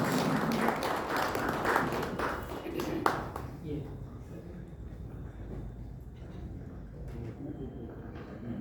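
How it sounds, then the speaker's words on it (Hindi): An audience applauds at a literary event to welcome Dr. Shashikala Rai, the clapping fairly dense at first and then thinning into scattered claps beneath faint talk. "जोरदार तालियों के साथ हम मैडम का स्वागत करेंगे"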